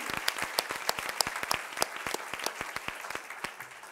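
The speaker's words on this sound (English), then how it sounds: "So let's have a round of applause for Jim Ferris." A forum audience applauds after a speaker is introduced, dense steady clapping from many hands filling the room at full volume throughout.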